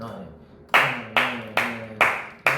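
Sharp hand claps ring out five times at a steady, quick rhythm, each a crisp broadband smack close by, with a faint voice murmuring underneath.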